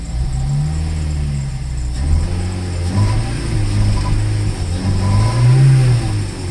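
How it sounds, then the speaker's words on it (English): A Toyota Celica GT-S with a cold air intake runs on a cold start, its engine note close and steady and slightly boggy, with a couple of gentle rises in revs. "I'm gonna let her warm up before I give her more rev."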